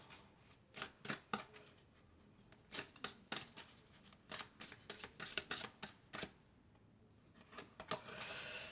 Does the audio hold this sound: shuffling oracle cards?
yes